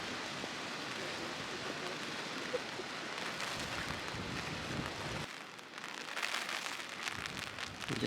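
Steady rain hissing across the whole clip on a windy volcano hiking trail at Kilauea Iki, a dense broadband wash with a brief dip in the middle, no voices.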